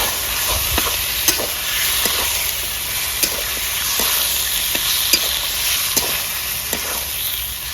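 Boneless chicken pieces frying in hot oil in a pan give a steady close sizzle and hiss, broken by sharp clicks and scrapes as a spoon stirs them now and then, with no voices.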